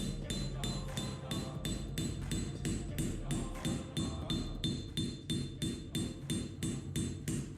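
Rapid, evenly spaced hammer blows ring on hot steel from an old file being forged into a tanto blade edge, a steady metallic clinking rhythm with a bright ring after each strike, with no talking.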